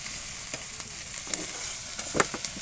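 Oil heating in a kadai (wok) before garlic, chili and onion go in, giving a constant crackling sizzle broken by sharp pops and spatters, close and on its own.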